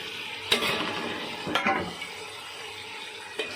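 Mint, green chili and three chopped tomatoes being sautéed in oil for chicken biryani, with a soft steady sizzle and a few sharp spoon-against-pan scrapes at intervals, quiet and close, no talking.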